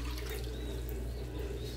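Water runs and splashes from a tap, poured for a foam test of homemade soap made from wheat flour, salt and sugar, a steady close gush with no voices.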